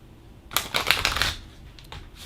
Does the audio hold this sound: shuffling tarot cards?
yes